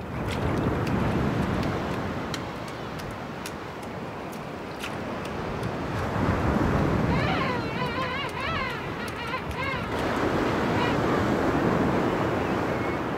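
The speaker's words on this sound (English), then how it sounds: "The waves are formidable." Ocean surf roars steadily against the South Georgia shore, a dense, loud wash of breaking waves with wind noise, and birdlike calls briefly rising over it.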